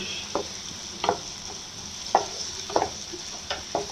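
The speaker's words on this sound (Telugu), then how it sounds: "పచ్చి స్మెల్ పోయేంత వరకు కూడా ఈ అల్లం వెల్లిగడ్డ పేస్ట్ని మనం వేయించుకోవాలన్నమాట" Ginger-garlic paste frying in a pan for chicken liver fry, a low steady sizzle broken by scattered sharp crackles and stirring scrapes, fairly close, with no talk.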